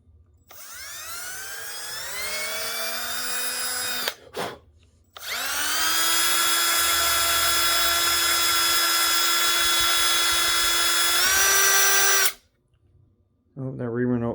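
A reamer bores a hole through a pen blank with a loud, whining drill-like tone that rises in pitch as it starts and then holds steady in two long runs before it stops abruptly. A brief voice follows at the end.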